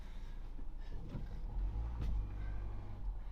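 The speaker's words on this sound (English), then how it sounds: "Driving through these streets is a lot of fun." A car driving slowly through the narrow streets of Mardin, with a low, steady engine rumble and road noise close by and a brief swell midway.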